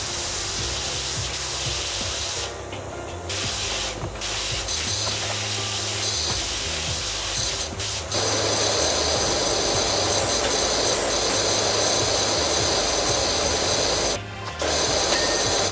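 A pressure washer sprays continuously in the video game PowerWash Simulator, a steady loud hiss that cuts out in brief gaps a few times and then resumes even stronger, with no talking.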